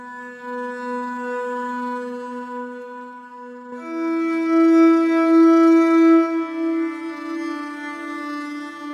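Omnisphere's Brittle Bones preset plays mellow, warm sustained string notes, a low held tone first, then a fuller, louder chord entering midway and ringing on alone.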